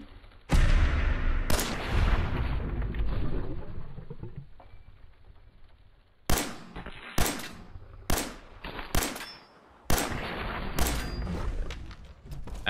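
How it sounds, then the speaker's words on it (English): A 10mm pistol fires repeatedly at a Deathclaw's legs in Fallout 4. A heavy opening blast rings out, then after a pause comes a run of sharp, separate gunshots at an uneven rhythm. "let's start shooting your legs"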